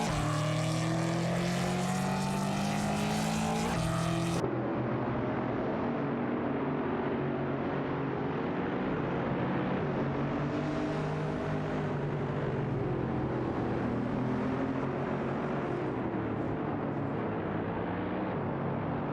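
A Mercedes SLR McLaren and a Lamborghini Diablo VT race in a video game, their engines droning and whining steadily with shifting pitch. A sharper multi-tone engine note opens before cutting to a smoother, continuous roar.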